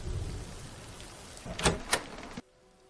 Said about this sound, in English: The rain was freezing, and Isabella Costello was already out of th